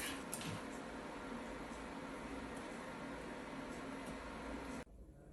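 A Magimix Cook Expert runs a creamed soup program, giving a steady, quiet whirring hum that holds unchanged for several seconds and then cuts off abruptly near the end.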